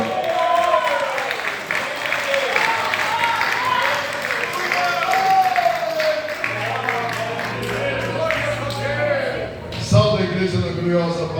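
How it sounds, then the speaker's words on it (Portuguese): Church congregation applauding and cheering through most of the stretch, a steady dense clapping wash with voices and a shout rising over it, loud and close throughout. "Aplaude a Jesus, que ele é merecedor."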